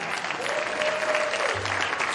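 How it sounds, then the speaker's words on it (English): A room full of people at a Virginia Republican women's political gathering breaks into a brief burst of dense, continuous applause that stays full and even for about two seconds. "We need a round of applause."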